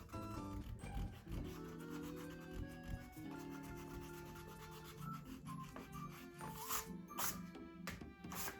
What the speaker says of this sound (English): Use your eraser to erase your pencil lines.